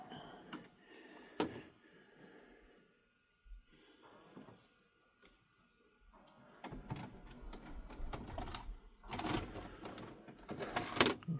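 A JVC DR-MV150 DVD VHS combo recorder ejecting a videotape: quiet mechanical clicks and whirring, then a busier stretch of clunks and motor noise as the tape comes out.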